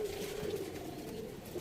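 Sialkoti pigeons with silver-marked wings coo in a steady, close, throaty warble that swells and fades over a second and a half, with no voices.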